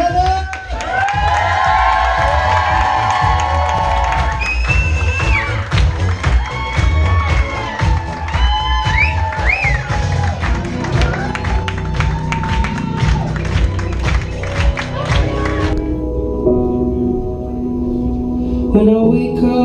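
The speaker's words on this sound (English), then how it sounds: "let's get a big round of applause for Mr. and Mrs. Kanupp!" Wedding guests cheer and applaud loudly for a newly married couple at a reception, a dense continuous crowd roar with shouts and claps, before music begins near the end.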